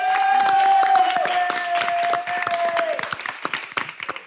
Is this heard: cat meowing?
no